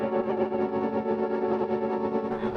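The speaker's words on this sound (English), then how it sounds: "we're still on the interference setting, and when it's at full, it really starts to destroy the sound" A Mellotron Micro run through a Chroma Console with the interference effect at full, giving a steady, sustained, heavily degraded and distorted tone with wavering texture, close and continuous without talk.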